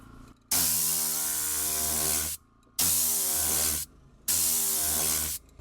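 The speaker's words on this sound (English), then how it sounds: "it can blow away any dust, dirt, grime, especially on the interior, on your mats, your carpets" A Tornador air cleaning tool blasts compressed air through a car interior to clear dust, a loud hissing rush in three long bursts separated by short pauses.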